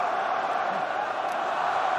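Large crowd at a South Africa v Ireland rugby World Cup match keeps up a loud, continuous roar of cheering and urging, a dense, unbroken wall of voices across the whole stretch.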